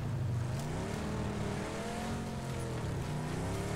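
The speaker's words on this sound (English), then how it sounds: "Vehicle just pulled up on me." A vehicle engine running steadily in a PUBG match, a continuous drone with rising and falling pitch, fairly loud and close, as the vehicle pulls up nearby.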